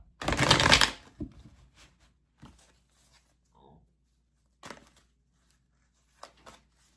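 Tarot cards shuffled in a brisk, close riffle for about a second, followed by a few soft scattered taps and card handling sounds spread out over near silence, with no talking.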